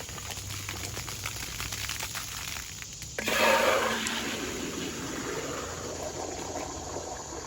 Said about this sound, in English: Rinse this out pretty well.